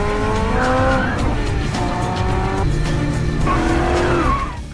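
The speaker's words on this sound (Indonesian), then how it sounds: "Roy yang berusaha mengejar Titi akhirnya berhasil menyalip Titi yang menghalang" Racing cars chase and overtake in a street-race film, engines roaring loudly with rising and falling revs and squealing tires throughout, close and continuous without speech.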